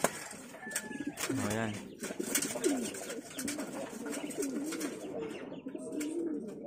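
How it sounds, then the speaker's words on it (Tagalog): Pigeons coo repeatedly in low, rolling calls during a derby training session, with someone speaking intermittently over the birds and some higher chirps mixed in. "Ayun sila mga kalapatids, no?"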